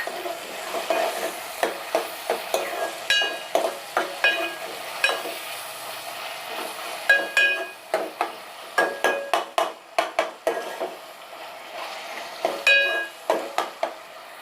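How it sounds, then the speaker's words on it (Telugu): A spoon stirs turmeric into chole masala in a pan, with repeated scraping strokes and clinks against the metal over a steady sizzle of frying, loud and close throughout. "పసుపు వేసుకొని కలుపుకోవాలి."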